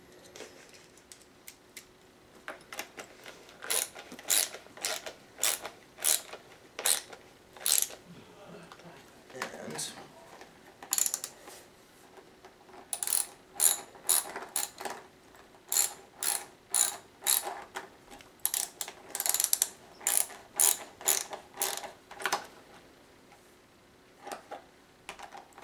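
A socket driver ratchet tightens parts of an SCA combat sword, sounding as many bursts of rapid, close clicking with short pauses between turns over a quiet background.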